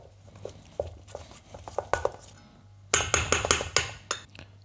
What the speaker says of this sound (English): Just going to stir these lightly to combine everything.